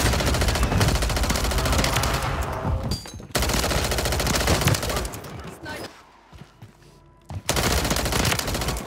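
Rapid automatic gunfire in the video game Warzone, dense bursts of machine-gun fire filling most of the stretch with brief pauses and a short quieter gap before firing resumes loudly.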